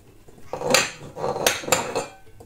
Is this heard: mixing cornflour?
yes